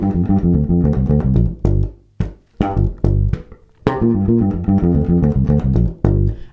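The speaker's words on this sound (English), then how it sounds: "that really super cool lick that you're hearing there is based upon the pentatonic scale" A bass guitar plays a rapid pentatonic lick in triplet groupings, close and loud, with quick plucked notes in two bursts separated by a brief pause.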